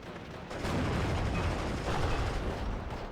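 Dense, continuous gunfire and artillery-like booms from a WWII battle in the strategy game Steel Division, with an MG42 machine gun and an M1 gun firing; sustained, loud rumbling volleys without pauses.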